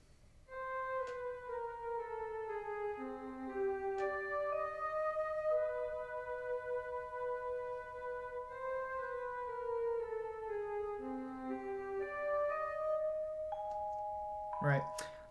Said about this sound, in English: that in combination with the vibraphone sounds like this.